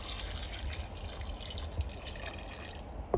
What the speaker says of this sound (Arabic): وهاي راح أضيف المي بس بدون شكر